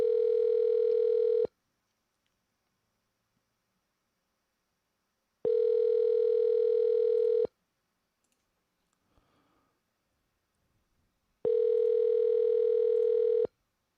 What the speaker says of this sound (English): Your call has been forwarded to an automated voice messaging.